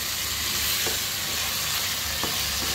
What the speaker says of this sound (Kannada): ಇದನ್ನು ಸ್ವಲ್ಪ ಒಗ್ಗರಣೆಗೆ ಬೇಯಬೇಕು